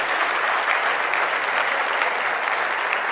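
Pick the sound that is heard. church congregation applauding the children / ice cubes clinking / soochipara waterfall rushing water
church congregation applauding the children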